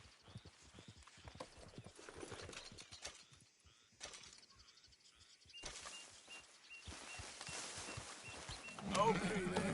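Hooves clip-clop rhythmically as a horse gallops in the video game Red Dead Redemption 2. The hoofbeats are quick and steady at moderate loudness, with game background sound around them.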